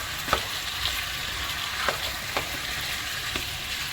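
Oxtail pieces and sugar sizzle and fry in hot oil in a pot, a steady close crackle with a few sharp pops and occasional stirring scrapes.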